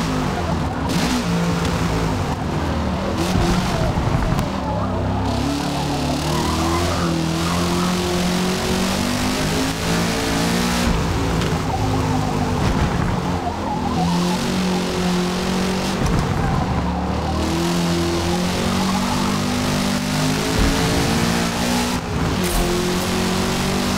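A race car in Forza Motorsport (2023) roars at full throttle as it accelerates, its engine note rising and falling through gear changes. It sounds loud and continuous throughout, with no pause.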